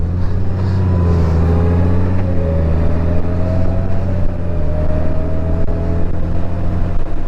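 A heavy Honda Gold Wing motorcycle rides around a traffic circle, its steady engine drone holding close and continuous with a slight rise in pitch partway through, wind noise layered over the low hum.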